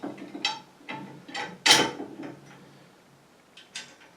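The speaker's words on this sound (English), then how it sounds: "these are nylock nuts, so they just screw on there, just loose for now" Nylock nuts are threaded by hand onto bolts on a tractor attachment, producing a few close metallic clicks and ratcheting scrapes in separate short bursts, then quieter fiddling.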